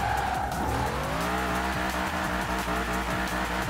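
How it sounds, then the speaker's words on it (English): A race car in Forza Horizon 4 spins through a 180 with loud, continuous tire squeal over a steady engine roar, filling the whole stretch without a break. "Good time to practice my 180s."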